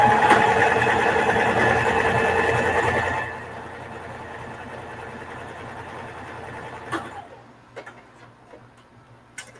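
A sewing machine stitching an old leather belt runs steadily and fairly loud with a fast mechanical whir and tick, then stops, leaving a quiet hum with a few faint clicks and taps.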